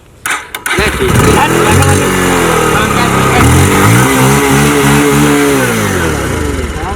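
A Bajaj Pulsar 220 motorcycle engine cranks over and catches, then settles into a loud, close idle with uneven revs rising and falling.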